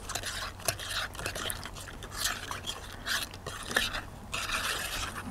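Couscous, sugar and cold water stirred together for a simple berry dessert, giving soft, continuous scraping and liquid swishing sounds at close range with no talking.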